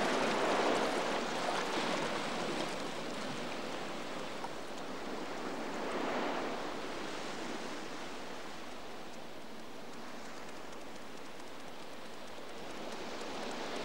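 Cold winter sea off Hokkaido, a continuous broad wash of waves and surf with slow swells in intensity, fairly distant and steady, with no voices.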